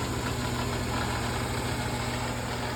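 A General 340 drill press runs with a steady motor hum and a constant rattling from its belt cover, continuous and fairly loud with no one talking.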